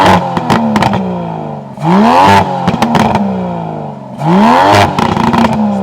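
Aston Martin DBS Ultimate 770 Volante with a 770-horsepower engine revving hard on a drive, three rising gear-pull sweeps with crackling gaps between them, loud and close with no talking.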